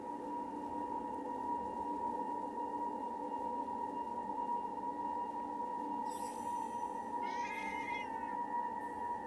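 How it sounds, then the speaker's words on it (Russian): Ginger cat in the video game Forspoken, meowing twice near the end over a steady tonal game ambience hum, the calls fairly close and clear. "Какой рыжий кот. Прям тигр."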